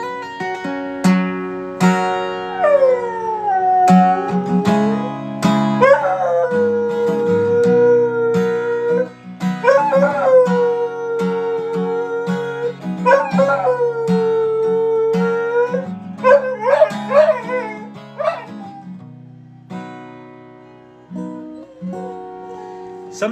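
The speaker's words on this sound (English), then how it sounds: "We got singing dogs," A dog howls along to singing, its long wavering howls swooping down and holding over a steady sustained accompaniment that runs throughout, loud and close.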